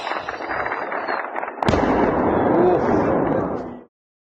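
Explosions in Voronezh during a drone attack: a distant rumbling background is broken midway by one sharp, loud blast, followed by a sustained heavy roar that fades out.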